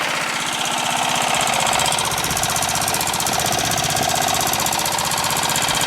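A Murray Select lawn tractor engine idling at low throttle, loud, close and steady, with a rapid even chugging pulse and a rattly exhaust tone.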